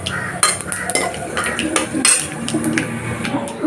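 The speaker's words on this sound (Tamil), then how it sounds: "இப்போ பார்த்தீங்கன்னா கடுகு பொரிய ஆரம்பிச்சிச்சு" Mustard seeds spluttering in hot oil during tempering for a kurma gravy, rapid sharp pops and crackles close by, with a spoon stirring and clinking against the pan.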